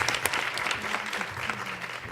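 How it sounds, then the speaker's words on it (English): An audience at a science and technology Q&A session on the status of women gives a short, dense burst of applause that stays steady and full throughout. "I'd like to just ask you to join me in a hand of applause"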